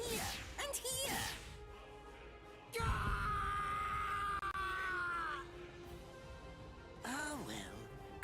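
A man screams and bellows in pain in the game Bleach Rebirth of Souls, with sharp loud cries at the start, a long strained yell in the middle and another cry near the end, mixed with other voices.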